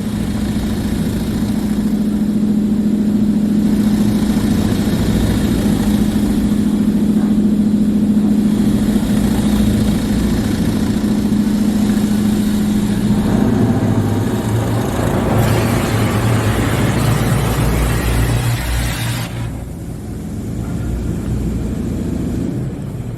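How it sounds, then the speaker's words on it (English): Washworld Razor Double Barrel automatic car wash at a King Soopers in Brighton, Colorado, with loud steady spraying and a low droning hum that shifts midway into harsher hissing water blasts, then drops off. "Sounds like one or a few of the turbo nozzles are not spinning."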